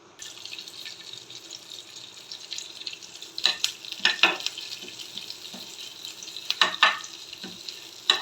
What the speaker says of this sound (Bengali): এই ঘিটার মধ্যে এই সব ফোড়নগুলোকে আমি দিয়ে দেব।